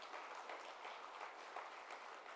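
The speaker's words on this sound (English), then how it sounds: "I think that deserves a round of applause" Faint, steady applause from an audience at the Gauteng Investment Conference, a soft continuous patter with no voices over it.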